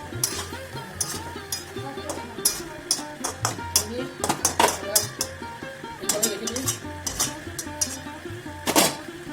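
A spoon stirs shrimp, palm greens and Kashmiri chili in a pan, making repeated metallic scrapes and clinks in an uneven rhythm, close and fairly loud.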